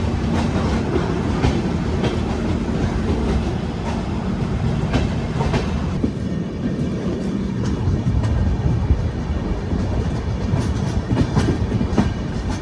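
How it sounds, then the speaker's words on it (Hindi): The Jamnagar–Tirunelveli Express pulls out of the station on the Palakkad–Coimbatore section, a loud, continuous rumble of rolling wagons with steady wheel clatter close by. "यहाँ पर हम लोग से पहले ही डिपार्चर हो रहा है जामनगर"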